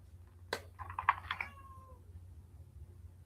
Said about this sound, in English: The cat's screaming.